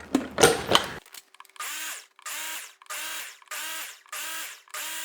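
Banana, cottage cheese and vanilla muffin batter whirred smooth in a mixer, a short loud burst followed by six even, repeated pulses of buzzing motor, each about half a second long with brief gaps between.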